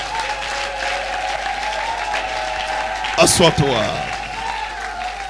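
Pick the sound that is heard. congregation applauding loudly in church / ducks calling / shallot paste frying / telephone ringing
congregation applauding loudly in church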